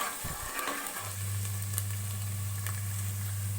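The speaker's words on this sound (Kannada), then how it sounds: "ಎಲ್ಲವನ್ನು ಚೆನ್ನಾಗಿ ಮಿಕ್ಸ್ ಮಾಡಿ ಎಣ್ಣೆಯಲ್ಲಿ ಚೆನ್ನಾಗಿ ಬೇಯಿಸ್ಕೊತಾ ಇದ್ದೀನಿ" Boti gojju, a goat tripe curry, frying and being stirred in oil, a soft, faint sizzle with a low steady hum coming in after the first second.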